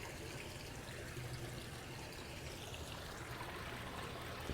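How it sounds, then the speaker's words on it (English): A hose watering a Trachycarpus palm in a tropical garden: a steady, faint rushing spray and splatter of water that runs without break throughout. "I am watering it like crazy."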